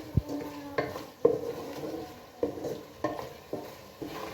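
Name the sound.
frying and stirring masala spices in a pan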